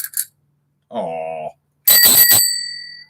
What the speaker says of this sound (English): my notification bell is actually a bicycle bell